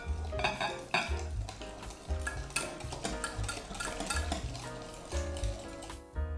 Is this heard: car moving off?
no